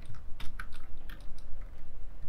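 Computer keyboard typing during a React web-development session, a short run of light, irregular key clicks close to the mic, with no talking.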